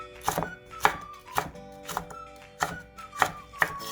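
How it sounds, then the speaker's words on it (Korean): A knife chops through cucumber ends on a cutting board while preparing cucumber water kimchi, giving about nine crisp, close, evenly spaced thuds with no talking. "그러면은 윗부분하고 밑에 부분 이렇게 잘라서 준비해 주면"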